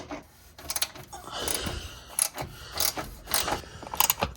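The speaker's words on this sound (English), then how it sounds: "Definitely prefer the ratchet wrench for these." A ratchet wrench clicks in quick bursts while turning bolts on a Ford F250 front valance, with close rasping ratchet clicks and metallic handling noises between strokes.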